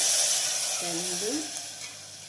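Water poured into wheat rava frying in a pan sets off a loud, steady hiss of sizzling and steam that runs throughout, with a brief stirring or scraping note in the middle.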